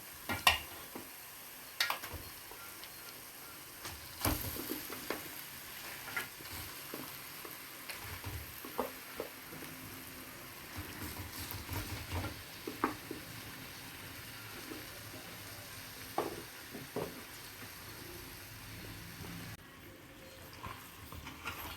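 Fish pieces sizzling in hot oil with ginger-garlic paste while a spoon stirs and scrapes them around the pan, a steady frying hiss broken by irregular clinks and scrapes.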